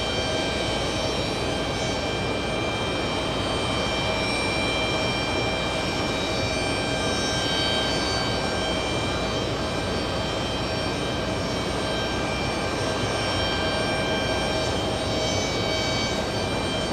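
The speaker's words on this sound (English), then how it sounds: "Beautiful sunset lighting on the A380 as he touches down." An Airbus A380 jet lands at JFK airport at sunset, its engines making a loud, steady roar with a whining tonal hum that holds throughout without letting up.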